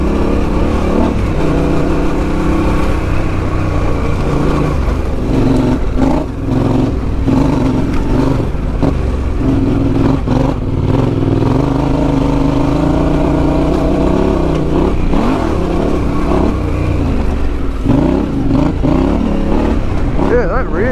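A motorcycle on Goldentyre GT923 road-biased tyres climbs an off-road hill, its engine droning steadily and close with changing revs, while a rider talks over it throughout.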